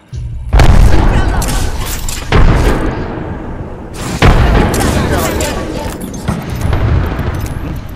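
Heavy booms from frag grenade explosions in a PC battle royale shooter, several loud blasts a second or two apart with rumbling tails, heard alongside game noise and players talking.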